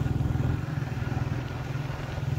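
A motorcycle engine approaches along a street in Hyderabad, a low, pulsing putter heard at moderate distance and fairly quiet throughout.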